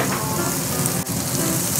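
Steak sizzling on a freshly heated iron plate at a steakhouse, a loud, steady crackling hiss close up, with a brief dip in the middle, no talking.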